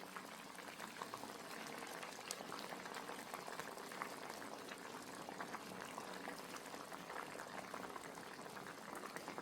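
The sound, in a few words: sardine fish curry boiling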